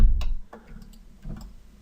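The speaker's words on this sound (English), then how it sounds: "I'm pressing Y on the keyboard again." Computer keyboard keys pressed while working in Maya, a few light separate clicks spaced irregularly, close and fairly quiet, with no speech.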